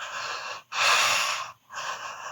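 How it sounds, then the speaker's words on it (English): Deep, open-mouthed breaths close up during a bioenergetic exercise: a long inhale, a louder drawn-out breath, then another, with airy rasping and no talk. "we're going to have a deep, open mouth, deep breathing"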